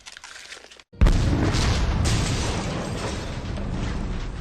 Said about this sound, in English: That's exploding candy for your enemies.